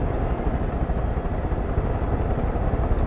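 Helicopter in the video game Far Cry 5, a steady, loud rotor-and-engine drone that runs unbroken for the whole stretch with no talking.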